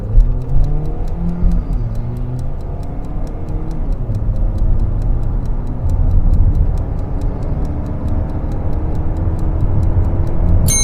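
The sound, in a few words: Hyundai Elantra Hybrid accelerating 0 to 100 in sport mode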